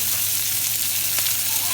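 Monkfish liver and a slice of bread toast fry in a pan, a steady bright sizzle that holds evenly throughout, close and alone.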